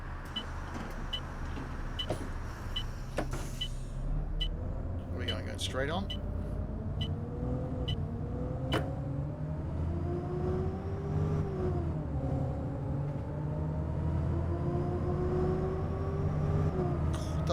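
City Bus 400 diesel engine hums and rises steadily through gear changes in the OMSI 2 bus simulator, with a whine, rattles and clicks under a voice.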